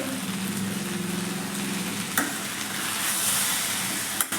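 Brinjal and tomato chutney with tamarind sizzles steadily in a pan as it is stirred, a soft continuous frying hiss with a couple of sharp scraping knocks, close and moderately loud with no talking.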